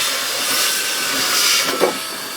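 Tineco Pure One X cordless vacuum cleaner running in auto mode, a steady close airy whine and hiss with a brief louder surge near the end, no talking.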